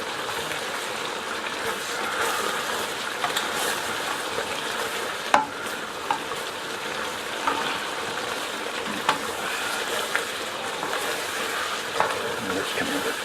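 Beef vindaloo sizzles and fries steadily in a pan while being stirred, a continuous close, loud frying hiss with a few sharp clicks of the utensil scraping the pan.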